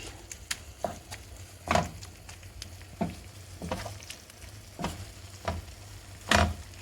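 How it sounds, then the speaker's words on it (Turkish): Eggs stirred together with sucuk and tomatoes in a frying pan: repeated scraping strokes at an uneven pace over a low, constant sizzle, close up, with no voices. "Bunun hepsini sucuk ve domatesle de karıştırıyoruz."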